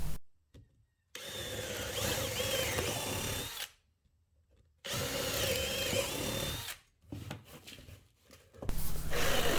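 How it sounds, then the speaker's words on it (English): A power drill bores holes in wood for a jigsaw blade while making a Halloween jack-o'-lantern box, whirring loudly in two long bursts with short gaps and brief stop-start runs after, no talking. "Now we'll drill some holes for the jigsaw blade to fit through."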